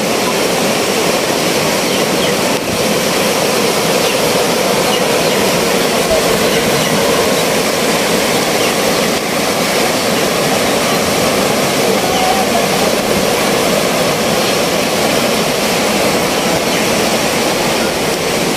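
Rushing floodwater of a swollen, overflowing river makes a loud, unbroken roar that holds steady throughout, close and dense with no pauses.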